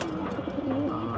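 Pigeons, including aluminium and platinum hammer birds, coo on a rooftop loft, a close, continuous low warbling without talk.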